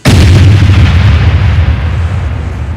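A loud explosion sound effect from an animated Superman battle in which missiles strike: a single heavy boom with a sharp onset and a long, rumbling decay.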